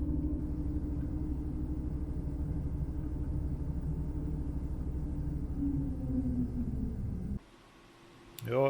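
Steady low engine rumble heard from inside a car aboard a ferry on the way home, continuous for several seconds before the drone suddenly drops away and a brief rising sound ends it.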